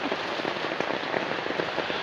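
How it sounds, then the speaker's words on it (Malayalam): Heavy rain pours down around a house, a close, even patter of drops on surfaces, dense and continuous throughout. "നല്ല മഴ പെയ്യുന്നുണ്ട്"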